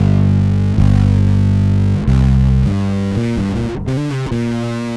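An electric bass played through a modified Boss overdrive pedal set to its distortion side, giving sustained gritty notes with a few plucked changes, loud and close, no talking.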